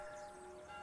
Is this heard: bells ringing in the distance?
yes